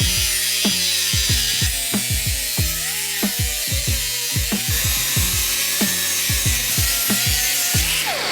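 A sander working a metal panel on an E28 being fitted out with a shaved engine bay gives a loud, steady abrasive drone with rapid repeating pulses and a harsh, bright buzz throughout.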